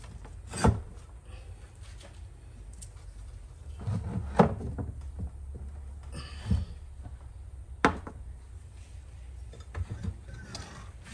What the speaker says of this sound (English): So now I'm just gonna pull this shaft out of here with these pistons